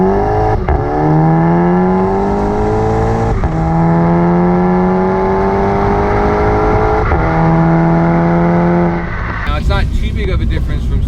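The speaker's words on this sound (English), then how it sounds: "you can hear it spooling up. You hear a lot more induction noise." Revo stage 3 VW Golf MK6 GTI with a KO4 turbo, engine revving up through gears in repeated rising pulls with turbo spool and strong induction noise, loud and close, ending in a sharp burst.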